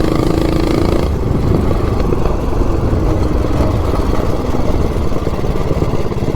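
A 420cc big block minibike engine revs hard and continuously as the bike accelerates from a standstill to 30 mph, a loud, steady close-up roar with no break.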